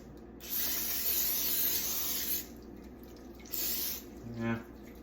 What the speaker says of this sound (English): So we're gonna spray.